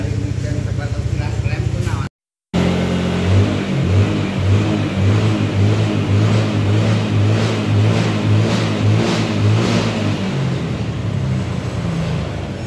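Car engine running with its idle speed set too high, a loud, steady, close-up engine drone with a slight rhythmic pulsing, a brief cut near the start, and a voice talking over it.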